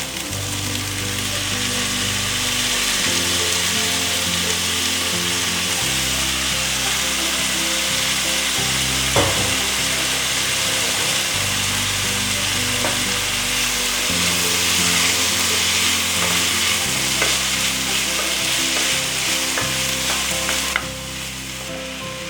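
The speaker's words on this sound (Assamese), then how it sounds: "ধুনীয়াকৈ লৰাই দিয়ক গোটেইখিনি, তেলবোৰ যাতে গোটেই কলডিলত লাগি যায়।" Chopped banana flower frying in hot oil for a pork dish, stirred steadily in a pan: a loud, continuous sizzle with repeated scraping strokes of the spoon, no voices.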